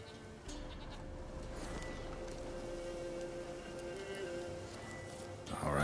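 Goat bleating in the video game The Witcher 3, a steady drawn-out animal call over continuous game ambience, with speech-like voice tones mixed in.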